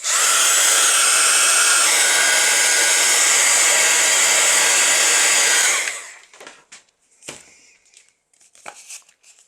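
Hair dryer blowing at full power over craft paper for Christmas ephemera, a loud steady roar for about six seconds that cuts off, leaving quiet paper rustles and small taps.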